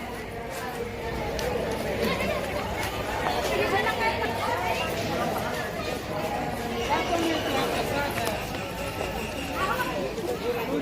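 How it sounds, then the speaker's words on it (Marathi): A busy crowd at Kapildhara waterfall gives a steady outdoor hubbub of overlapping chatter and movement, held at an even level without a break. "मस्त गर्दी."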